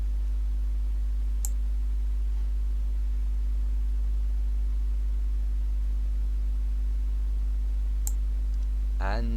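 Two sharp computer mouse clicks, about six seconds apart, sit over a steady low electrical hum in an otherwise quiet room.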